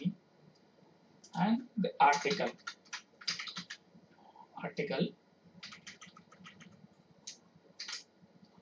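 Computer keyboard typing code in bursts of quick clicks, fairly close and moderate in volume, with a person talking intermittently over the keystrokes.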